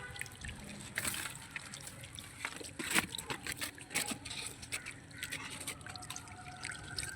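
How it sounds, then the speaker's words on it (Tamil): Water trickles and splashes steadily onto soil and leaves, with irregular dripping bursts close by and faint outdoor background. "அதனால தான் நம்ம இப்படி தண்ணி விட்டுன்னு வரோம்"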